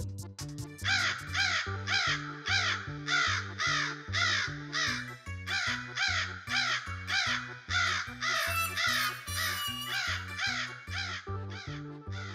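A crow caws repeatedly in a steady rhythm, harsh calls close and loud, one after another with no pauses between.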